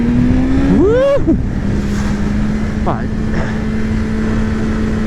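A BMW S 1000 RR motorcycle rides on a race circuit, its engine droning loudly and steadily with a rising then falling rev sweep early on, and a rider's brief exclamation is heard over it.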